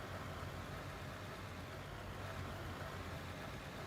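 A steady, low engine drone from a vehicle in the mining game Out of Ore, running evenly and fairly quietly with no talk over it.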